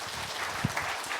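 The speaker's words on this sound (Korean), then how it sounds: "박수 부탁드리겠습니다" Audience applause at a forum session on China-Japan-Korea local diplomacy, a brief burst of steady clapping filling the hall.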